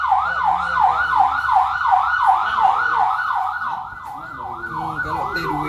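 An ambulance siren wails in a steady repeating up-and-down sweep, loud and close, on its way to pick up a patient from home, with faint traffic beneath.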